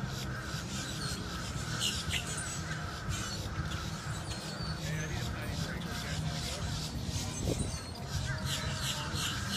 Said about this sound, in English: all these birds chirping on the background